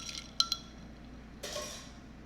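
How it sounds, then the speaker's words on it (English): A spoon clinks against a glass of glittery iced tea while it is being stirred: two sharp clinks close together, then a softer swirl of liquid and light clatter, all quiet and close. "So let's give it a bigger stir so that it rolls."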